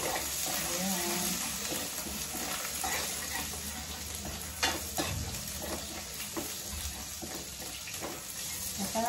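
Garlic sizzles steadily in a pan, loud and close, with small stirring clicks and scrapes through the frying.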